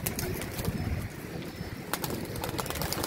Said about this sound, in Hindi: ये देखें जी माशाल्लाह सब के सब कबूतर खुद ब खुद ही बाहर जा रहे हैं और खुद ब खुद ही उड़ना शुरू हो जाएंगे।